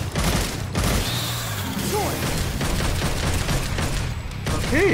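Gunfire from a shotgun in the action game Devil May Cry 5, loud and close, mixed with game combat effects and music through the clip, with a few bursts standing out over the busy background.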